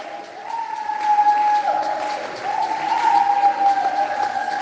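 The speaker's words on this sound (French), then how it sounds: "Acclame pour le Seigneur." A church congregation applauds and cheers in praise. The clapping swells and holds as a broad, steady wash, with crowd voices and a sustained musical tone running through it.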